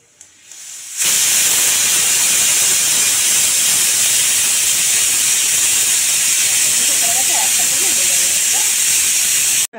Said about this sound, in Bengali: দিয়ে এবারে প্রেসারে এটা 3খানা সিটি মেরে নেবো বন্ধুরা।